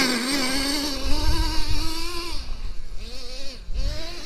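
A Traxxas T-Maxx 3.3 nitro RC monster truck's small engine screams at high revs, then its pitch dips and swings back up as the throttle is blipped, loud and near, with no voices.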